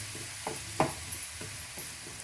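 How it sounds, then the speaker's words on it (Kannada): Chopped onions frying in hot cooking oil for an egg fry, a soft steady sizzle with a handful of distinct stirring clicks and scrapes, close and fairly quiet. "ಎಣ್ಣೆ ಸ್ವಲ್ಪ ಕಾದ ನಂತರ ಚಿಕ್ಕದಾಗಿ ಕಟ್ ಮಾಡ್ಕೊಂಡಿರುವಂತಹ 2 ಈರುಳ್ಳಿನ ಹಾಕೊತಾ ಇದ್ದೀನಿ."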